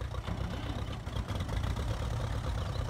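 Little Grey Fergy tractor engine in a video game, running at a steady low, rumbling idle, fairly quiet and even throughout, with no voices.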